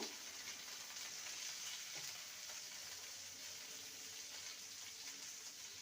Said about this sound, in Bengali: ক্যাপসিকামকে লম্বা লম্বা করে কুচি করে নিয়েছি ক্যাপসিকামটাকে হালকা ভেজে নেব